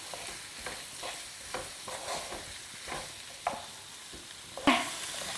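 Capsicum and carrots are stirred in a frying pan for Mexican rice, giving faint, rhythmic scraping strokes over a soft sizzle. A sharper knock comes near the end, with no voices.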